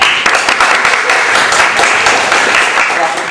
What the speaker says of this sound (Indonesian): Tepuk tangan dong buat Mas Andi SW.